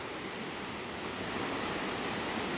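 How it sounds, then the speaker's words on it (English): The river Gelt rushes powerfully through a gorge with a steady, dense, broadband roar, loud and unbroken, with no voices. "It's like a gorge, the power of the water is unreal."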